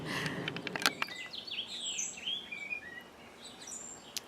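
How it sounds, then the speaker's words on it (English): Birds singing and chirping in the distance, a steady mix of short tweets and warbling phrases over faint outdoor background, with a few brief clicks early on. "can you hear the birds singing?"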